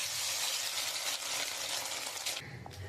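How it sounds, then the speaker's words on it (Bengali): Fish roe rubbed with salt and turmeric hits hot oil, giving a loud, steady broadband sizzle throughout that eases slightly near the end, with no talking over it. "আমার তেলটা গরম হয়ে গেছে, আর আমি মাছের ডিমটা নুন হলুদ দিয়ে ভালো করে মেখে নিয়েছি। এবার আমি দিয়ে দেবো।"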